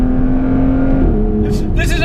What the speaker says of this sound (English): This is a totally stock exhaust.